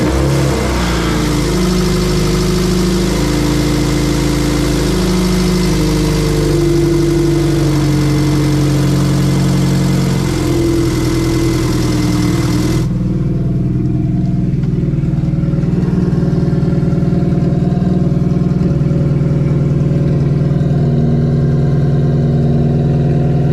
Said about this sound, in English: I'm gonna turn the car on and see what it sounds like with the mid exhaust